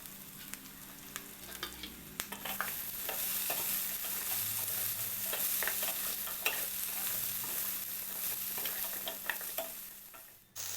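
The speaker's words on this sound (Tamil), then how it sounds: "ஃப்ரை பண்ணி வச்சுருக்க கட்டில் ஃபிஷ்ஷை இதில் சேர்த்துட்டு ஒரு கேப்சிகமை கட் பண்ணி இதில் சேர்க்கணும். கொஞ்சம் ஸ்ப்ரிங் ஆனியனும் கட் பண்ணி இதில் சேர்த்து நல்லா மிக்ஸ் பண்ணணும்." Fried cuttlefish tossed with capsicum and spring onion in a pan, a steady close sizzle with repeated scraping stir strokes that grow busier midway and stop abruptly at the end.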